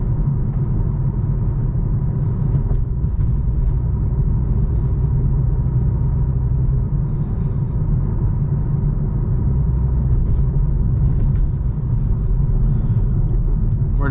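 A 2021 Toyota Supra cruising in normal mode, heard from inside the cabin as a steady low engine and intake drone with road rumble, constant in level throughout.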